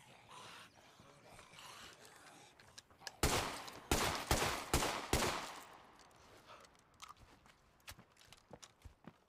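Rapid gunfire rattles in a zombie-shooting video game, a tight cluster of loud bursting shots in the middle, surrounded by quieter scattered clicks and footsteps-like sounds at a low overall level.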